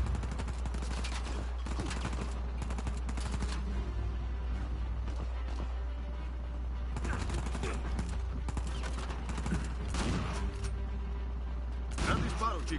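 In the video game Uncharted 4, repeated gunshots crack out in scattered bursts and rapid volleys over a constant low hum.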